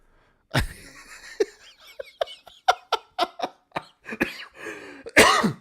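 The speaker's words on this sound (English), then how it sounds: "Make myself cough" A string of short, sharp coughs and throat-clearing bursts, close and uneven, ending in a louder harsh cough.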